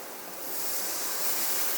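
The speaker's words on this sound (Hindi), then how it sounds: "1 गिलास मैंने पानी डाल दिया।" A glass of water poured into a pot of masoor dal khichdi cooking with garlic and ginger, a rising, steady rushing splash that builds after a quiet start, with no talking.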